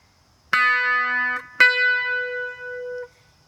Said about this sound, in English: An ascending octave sounds like this.